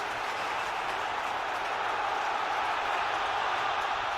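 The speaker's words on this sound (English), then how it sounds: "And that's got the crowd going again." Chelsea fans cheer through a 2006 Premiership match against Tottenham Hotspur, a loud, steady wash of crowd noise that fills the stadium without a break.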